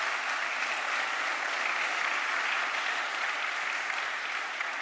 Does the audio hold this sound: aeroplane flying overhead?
no